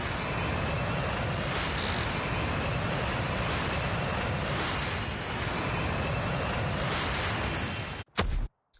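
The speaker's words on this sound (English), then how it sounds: "There's a team ahead of them that's using a helicopter as we speak." A helicopter in a Call of Duty: Mobile battle royale match gives a steady, broad rotor and engine roar that holds for about eight seconds before cutting off abruptly, with a brief burst after the cutoff.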